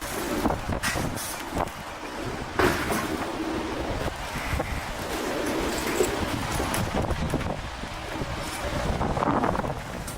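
Steady gusting wind roars across the microphone during a plane's crosswind landing, with a low rumbling drone underneath, continuous and fairly loud throughout, with no clear voices.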